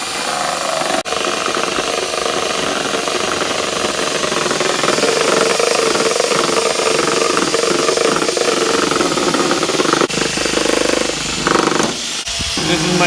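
A power drill spins an applicator pad snapped onto a half-inch drive bit, buffing a hazy car headlight: a loud, continuous whirring hiss that runs steadily with a few brief dips near the end.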